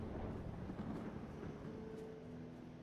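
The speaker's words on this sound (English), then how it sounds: "Pretty epic storm going on." A thunderstorm in the video game Skyrim rumbles low and steady, a dense wash of rain and distant thunder with no clear separate cracks.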